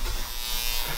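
An electric massager buzzes continuously at close range, a harsh steady drone that swells slightly at the very end, with no talk over it.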